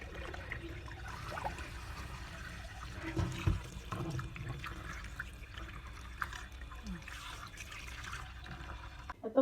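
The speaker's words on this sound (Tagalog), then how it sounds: "Hugasan sa malamig na tubig." Chicken feet are rinsed under cold running water in a sink, with a steady trickling flow and splashes of water over the pieces, fairly quiet and without talk.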